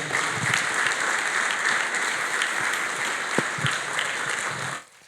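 A church congregation applauds to acclaim the Lord during a service, a steady, full round of clapping that holds for nearly five seconds before dropping away at the end.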